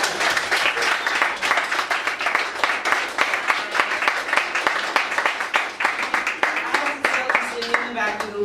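Audience applause at a theater post-show Q&A after a new-works play reading, dense steady clapping throughout with voices mixed in.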